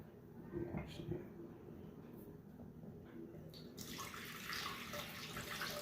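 Liquid poured into a KitchenAid K150 blender jar to cover the blade for a smoothie: a soft splashing, rushing pour that starts partway through, with a person talking throughout.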